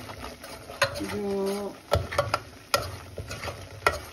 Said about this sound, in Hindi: ये चार चम्मच मैंने बटर डाला है, डेढ़ चम्मच मैंने आटा डाला है। इसको अच्छे तरीके से भून कर